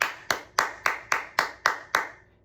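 Seven sharp hand claps in an even, steady eighth-note rhythm, each crisp and close with a short decaying tail, and quiet gaps between them.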